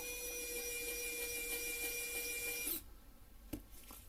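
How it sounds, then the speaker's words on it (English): Electric screwdriver backing screws out of an MSI RTX 4060 Ti Gaming X graphics card, a steady close whirring drone that cuts off abruptly, followed by a couple of small clicks. "So I'm going to use the electric screwdriver again."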